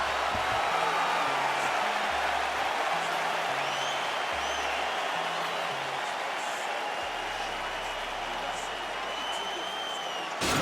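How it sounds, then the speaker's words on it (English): A large arena crowd applauds and cheers in a steady, sustained roar after a round in a UFC video-game fight while a commentator talks over it. "So the crowd voicing its appreciation after that round."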